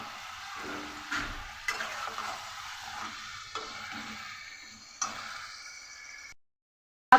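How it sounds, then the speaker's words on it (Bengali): Chicken frying in oil over a raised gas flame with Kashmiri chilli powder, a faint steady sizzle punctuated by several sharp spoon taps and stirring knocks, no talk, then sudden silence. "এবার এটাকে মিনিমাম পাঁচ থেকে সাত মিনিট এইভাবেই ফ্রাই করবো"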